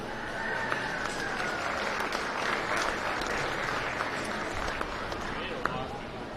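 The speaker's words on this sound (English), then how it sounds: "let's go and give them a nice round of applause" Steady crowd applause rings out for kids who showed pigs at a county fair swine show, an even, continuous patter of many hands heard from a distance in a large, open space.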